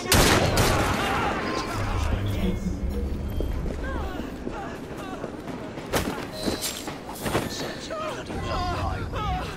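Gunfire in the PC game Assassin's Creed Syndicate, a burst of shots and booming blasts up front, then scattered cracks amid galloping hooves and shouting voices in a busy fight.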